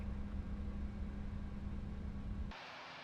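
A jet airliner's engines hum steadily on the ground in a flight simulator game before a takeoff to Dublin, with a low droning tone that drops to a quieter hiss near the end.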